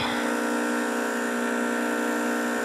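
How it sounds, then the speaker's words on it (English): A freon vacuum pump pulling a vacuum through a gauge set on a Jeep XJ air conditioning system drones steadily and loudly, a constant mechanical whine with layered tonal hum and no breaks. "That's a freon pump"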